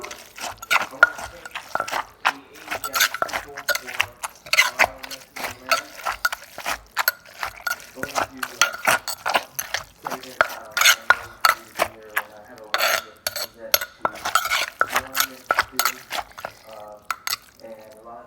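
A salted bamboo shoot dish is stirred and mixed by hand, giving a run of rapid, irregular clicking and wet squelching knocks of utensil against bowl, close and fairly quiet, with brief speech between.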